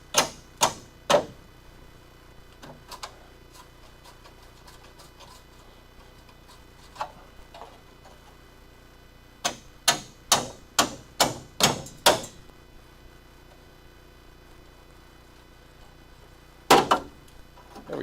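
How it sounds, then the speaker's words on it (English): Sharp metallic hammer blows drive a chisel into a spot weld on a Dodge Charger, coming as scattered single strikes and quick bursts of several hits over a quiet background. "I gotta drive at it with the hammer and the chisel"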